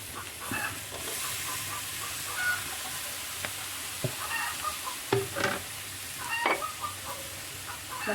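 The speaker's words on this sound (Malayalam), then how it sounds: "ഇനി നമുക്ക് നമ്മൾ അരിഞ്ഞു വെച്ച് കൈപ്പയ്ക്ക ഇട്ട് കൊടുക്കാം" Chopped bitter gourd for a kaipakka curry goes into a pan of fried spices, giving a steady sizzle marked by several sharp clatters and stirring scrapes, close and moderately loud.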